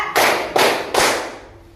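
Three loud, sharp group claps from a primary school class, evenly spaced in a counted rhythm, each burst ringing briefly before fading, with no talk.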